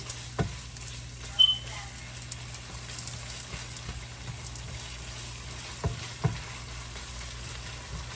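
Cheese melts over ground beef in a pan on low heat, producing a soft, steady sizzle under a low hum, broken by a few light knocks of stirring.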